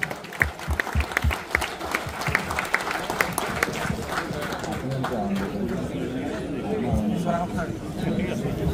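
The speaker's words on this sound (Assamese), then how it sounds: "এটা ডাঙৰ হাত চাপৰি" A big round of applause breaks out at a Guwahati Medical College reunion, with dense clapping from a crowd. It slowly fades into murmuring chatter and voices.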